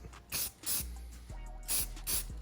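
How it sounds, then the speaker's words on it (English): Four short hissing bursts from a spray can coating valve cover bolts of a 2003 Cobra engine, quiet and close, with brief pauses and faint clicks between sprays. "Let me see if I can do this without spraying my fingers"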